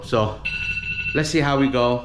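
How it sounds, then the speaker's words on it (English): A morning alarm rings in steady electronic tones, heard faintly beneath and between a person's close, clear speech. "That's the alarm."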